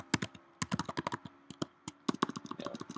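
Rapid, uneven keystrokes clatter on a computer keyboard, close and clear, a flurry of sharp clicks with brief pauses and no voices.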